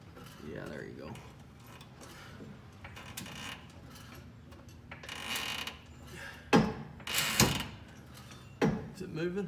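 A jack set under the differential pumpkin raises the rear axle of a Ford truck in a garage, with clanking and ratcheting metal clicks that grow louder toward the end, while people talk in the background.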